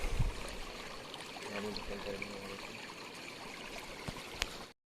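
Steady rushing and trickling of a flowing jungle stream, close and continuous, with a faint thump at the start and a brief tap near the end.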